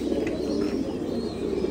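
Pigeons on a pigeon farm coo in a low murmuring chorus, soft overlapping throaty calls with a few faint chirps and no talk.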